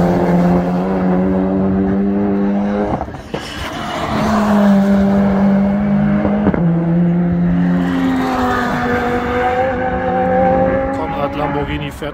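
A Lamborghini race car laps the Nürburgring during NLS test and setup runs, its engine note loud and close, rising and falling through gear changes with brief drops between pulls.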